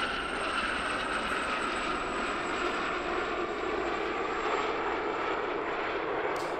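A Gazelle helicopter flies a display at a country airshow, its turbine whine and rotor drone sounding as a steady, moderately distant hum that stays even throughout with no voices.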